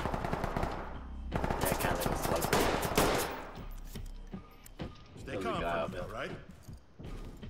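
Shotgun gunfire in the tactical shooter Ready or Not, loud bursts of rapid shots echoing in close quarters, mixed with players talking throughout.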